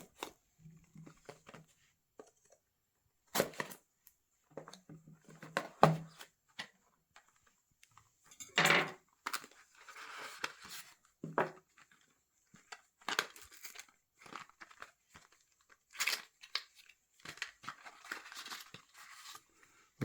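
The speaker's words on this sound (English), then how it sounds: "I'm just going to cut the seal open" Cutting through the seal of a Samsung Galaxy A17 5G phone box, heard as scattered close crinkles, snips and plastic tearing in short separate bursts between quiet pauses.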